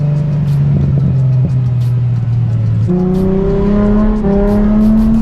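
A Nissan 350Z HR engine drones steadily while driving, its pitch dropping then stepping up through gear changes, loud and close throughout with no talking.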